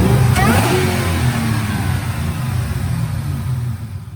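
Supercharged 2010 Ford Mustang GT, a Roush-tuned 3V V8 with Detroit Rocker cams and Kooks headers, revs hard on a dyno at Brenspeed, a loud sustained engine roar that gradually eases off.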